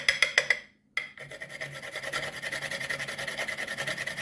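A whole nutmeg is rasped across a grater for a Jamaican Christmas fruit cake, with a few quick scrapes, a short pause, then a steady run of soft close grating strokes.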